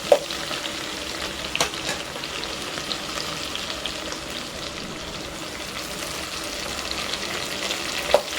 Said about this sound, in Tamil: அதையும் இதில் சேர்த்து நல்லா பூண்டு வாசனை வர அளவுக்கு நல்லா வதக்கி விடுங்க.